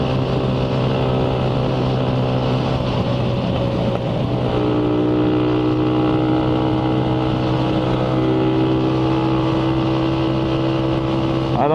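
A motorcycle engine with a faulty carburetor holds high revs and briefly stutters and cuts out, a steady loud close drone with a dip around the middle.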